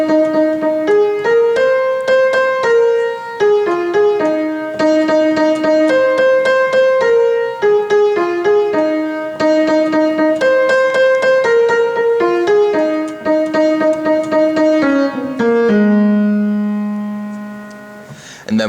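Solo piano plays the first half of a song's melody as a clear repeated-note line with soft chords, ending on a sustained low note.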